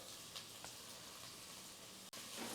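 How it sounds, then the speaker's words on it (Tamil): Onions sautéing in oil for an eggplant curry, a faint, steady hiss of sizzling with a few soft stirring clicks and one brief break near the end. "வெங்காயம் வந்து ஒரு ரெண்டு மூணு நிமிஷத்துக்கு வந்து நல்லா வதங்கட்டும்"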